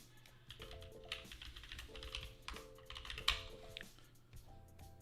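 Rapid typing on a computer keyboard, close and steady, with uneven bursts of clicks running throughout and a faint tonal hum beneath.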